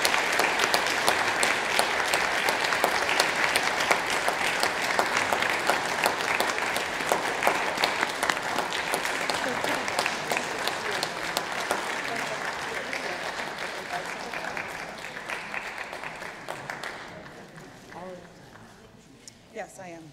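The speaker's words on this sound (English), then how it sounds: "let's give them another round of applause for doing such a wonderful job this evening" Concert audience applause, a long sustained burst of dense, loud clapping that holds steady for most of its length before thinning out and fading to a few scattered claps at the end.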